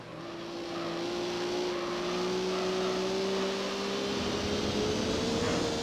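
Racing Honda Civic from the Super Taikyu series in Gran Turismo 3, its thin, raspy engine and exhaust note holding a steady, slowly rising pitch, loud and continuous with no talk over it.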